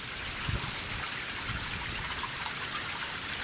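Waterfalls in Rubio Canyon, Los Angeles, give a constant broad hiss of falling, splashing water, steady and unbroken, heard from a short distance with no talk.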